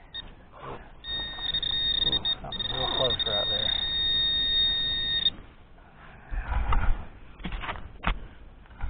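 While hunting for coins and relics in the dirt, a metal detector sounds a steady high electronic tone for several seconds as someone talks over it, then bursts of digging and handling noise follow.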